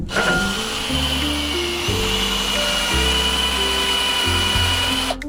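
A power drill whines steadily and loudly at close range while drilling into a cargo carrier, its motor pitch stepping down and up several times as it bites under load.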